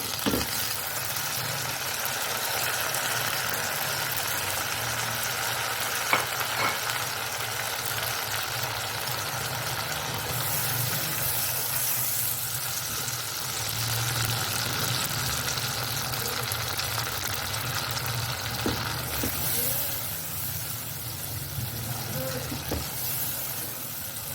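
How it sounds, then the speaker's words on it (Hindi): Ginger garlic paste thinned with a little water sizzles steadily in a pan as a home-style aloo chicken curry is cooked, a continuous broad hiss with faint clinks throughout. "इसमें मैं अदरक लहसुन का पेस्ट, थोड़ा सा पानी इसमें डालकर 1 टेबलस्पून अदरक लहसुन का पेस्ट है"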